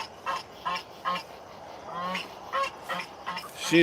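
Goose honks repeatedly from close by, with about eight short nasal calls in an uneven rhythm over a soft outdoor backdrop, and no talk.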